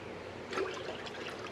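Water, about a cup and a half measured out for oatmeal, pours from a container with a soft, faint, steady trickling splash, alone and quiet.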